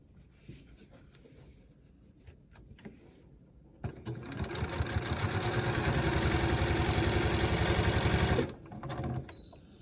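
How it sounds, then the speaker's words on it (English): A sewing machine stitches a raw edge applique patch onto a jacket, a close, loud, fast rhythmic whirring run of about five seconds, preceded by faint handling clicks and ending in a brief shorter burst. "I'm sewing at about 1/4 of an inch"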